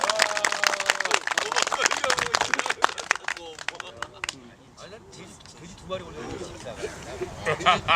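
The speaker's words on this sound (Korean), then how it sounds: "수고하신 입사한테도 박수 한번 부탁드리겠습니다" A crowd at an outdoor angling club's ceremony breaks into dense applause that fades after a few seconds. Scattered claps and voices follow as people talk.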